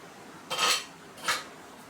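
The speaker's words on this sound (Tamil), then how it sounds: "ஒரு பாத்திரம் வச்சுக்கலாம்." Two short metallic clanks of a pot being set down on a gas stove, the first louder and longer, the second brief, in a quiet kitchen.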